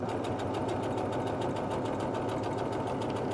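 A sewing machine runs a straight stitch while elastic is stretched and sewn onto a trouser waistband, producing a fast, continuous mechanical hum with a steady rapid needle rhythm, close up and uninterrupted.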